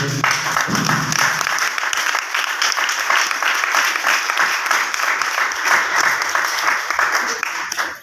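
Dense, steady applause from a church congregation fills the room for about eight seconds, staying loud and even before cutting off at the end.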